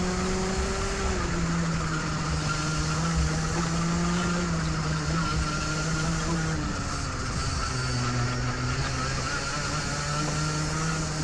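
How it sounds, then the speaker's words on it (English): Race car engine held at full throttle through a corner at Oakleigh: a loud, continuous droning roar heard from on board, its pitch dipping and rising slightly as the car moves. "I'm staying on the throttle the whole way around there, you can hear"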